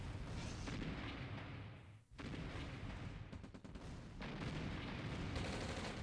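Artillery fire in the real-time strategy game OpenRA Red Alert, with a dense run of heavy booms and rumbling blasts, a short lull, then more distant-sounding bursts of gunfire and explosions.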